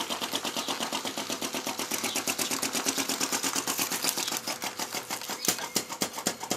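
A small flame licker engine on a toy tractor runs with rapid, even ticking pulses at close range, then falters and stops near the end with a few scattered clicks.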